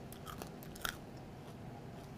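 A few crisp, close crunches of biting into oven-cooked crunchy bacon, with one sharper bite standing out, faint over a low steady background.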